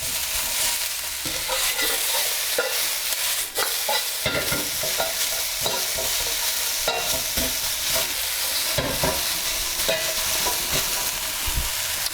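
Spring onion and green pepper stir-frying in a pan for Chinese takeaway-style Singapore noodles, a steady close sizzle broken by repeated scraping and stirring clatters throughout, with no talking.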